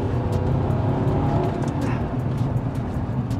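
An Audi R8 V8 fills the clip with a loud, dense engine roar that rumbles steadily, with slight swells as it works through the gears.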